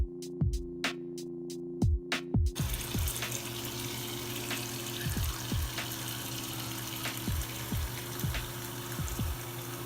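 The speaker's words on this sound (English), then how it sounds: "some of the water is going down the drain" Water from a running tap gurgles and drains down a clogged bathroom sink, a steady close rushing flow with rhythmic gulping pulses, preceded by a few sharp knocks at the start.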